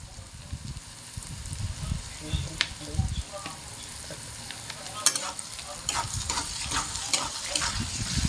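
A spoon stirs spices frying in a pan with tomato ketchup for homemade pasta, a steady low sizzle with soft scraping strokes that grow busier toward the end, close and moderately quiet.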